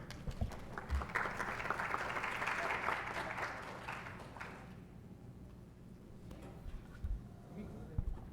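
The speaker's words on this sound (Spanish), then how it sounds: "Recibimos con un fuerte aplauso a la doctora" A forum audience gives moderate applause that swells and then thins out after about five seconds, leaving soft room noise and a few scattered knocks, heard fairly distant and quiet.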